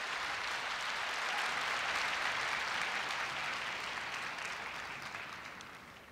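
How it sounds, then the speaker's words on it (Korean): Applause from the audience at a Korea University entrance ceremony, a dense, even round of clapping that holds steady and then slowly tapers off, with no voices over it. "큰 박수 부탁드리겠습니다."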